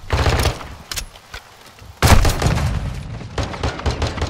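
A grenade blast in a video game firefight, a loud boom in the middle cutting through bursts of close automatic gunfire, with heavy rumbling shots before and after.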